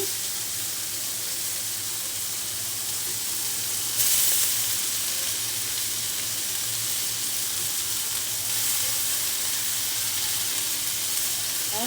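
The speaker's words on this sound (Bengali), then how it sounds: "এখন শাপলাগুলো দিয়ে দেবো চিপে চিপে শাপলাগুলো দিয়ে দিচ্ছি" Water lily stems, squeezed and added to a hot pan with prawns while making a chicken and taro dish, set off a steady loud sizzle and hiss that swells briefly around the middle.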